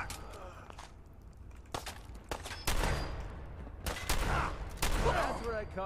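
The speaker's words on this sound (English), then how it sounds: "That was some bad shooting." Gunfire in Fallout 4 crackles in sharp, loud separate shots and short bursts, some close and punchy with ringing tails, spaced irregularly across a few seconds of combat.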